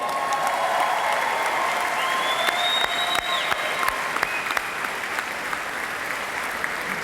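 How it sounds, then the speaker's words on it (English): Sustained applause from a large audience at a Hawaii Community College graduation ceremony, a dense crackle of clapping with a few whistles rising above it, steady and fairly loud throughout. "Let's give you all a big round of applause."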